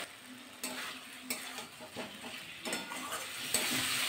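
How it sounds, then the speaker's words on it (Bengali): Pointed gourd and potato cook in a spiced pan, a quiet sizzle with intermittent scraping stirs and small clatters, close but low in level. "পটল দিয়ে আলু দিয়ে কিন্তু আরও 1 মিনিট কষিয়ে নিতে হবে"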